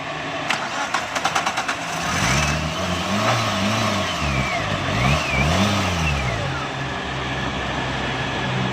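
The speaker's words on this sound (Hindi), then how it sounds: "सबसे पहले गाड़ी स्टार्ट करें जी। स्टार्ट करें गाड़ी।" A Maruti Suzuki Alto VXR with a misfiring, carburettor-related fault cranks with a rapid starter clatter, then catches and runs at a close, loud, uneven idle with wavering engine pitch, without speech.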